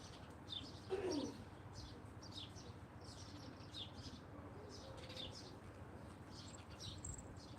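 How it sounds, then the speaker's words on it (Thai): A big bird calls outdoors with soft, distant coos, with faint chirps repeating over a quiet background and a brief flutter early on. "นกตัวใหญ่ นกตัวใหญ่"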